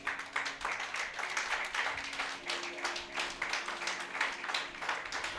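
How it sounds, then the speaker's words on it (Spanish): A church congregation claps in a fairly quick, even rhythm, rather faint and reverberant, with a steady tone lingering underneath. "¿Por qué no le das un fuerte aplauso al Señor?"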